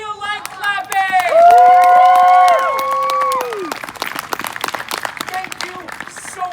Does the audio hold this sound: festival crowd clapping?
yes